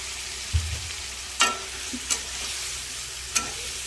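A ground spice paste with turmeric and salt fries in a pan over a steady low sizzle, punctuated by a few sharp scrapes and clinks of stirring, close and moderately quiet.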